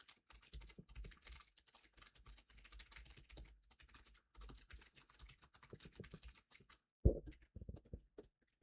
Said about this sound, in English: Like me just frantically typing.